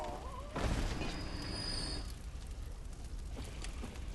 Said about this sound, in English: I hurt somebody shooting that cannon like that.